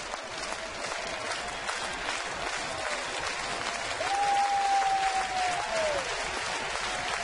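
Baseball stadium crowd in Toronto during a Rays at Blue Jays game, a steady roar of clapping and cheering that grows louder midway, with a long whistle tone riding over it.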